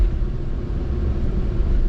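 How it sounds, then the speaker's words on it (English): Car rolling across the old Wabash Cannonball railroad bridge, a former train crossing in Indiana, giving a steady low rumble and road roar with no breaks, close and continuous. "So listen to the sounds of going over this bridge."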